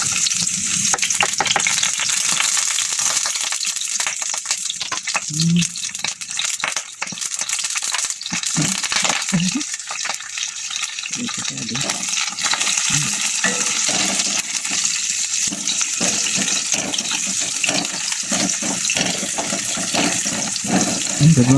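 Garlic and onion sauté in hot oil in a pan, a loud continuous crackling sizzle with occasional utensil knocks and rattles, close to the listener, and no speech over it.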